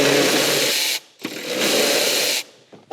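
A ratchet on an extension works a bolt loose under the bonnet of a Toyota Prado 250. It makes two long, loud bursts of rapid clicking with a short pause between them.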